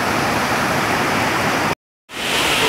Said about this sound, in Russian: А вот это как раз и есть водопад.